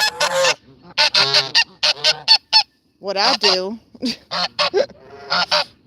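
A flock of geese honks loudly in repeated harsh bursts, with someone speaking briefly among the calls.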